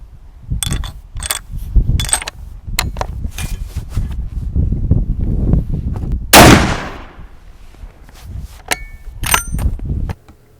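A single loud rifle shot from a 378 Weatherby Magnum firing a 300 grain Hornady DGS bullet, a sharp blast with a quick decaying tail, set among scattered clinks and small knocks before and after.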